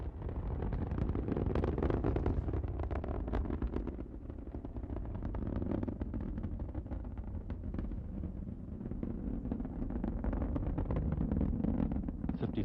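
Space Shuttle Endeavour's main engines during launch, a continuous deep, rumbling roar that holds steady and loud without pause, with no voices over it.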